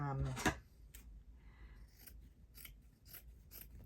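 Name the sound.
cutting linen with scissors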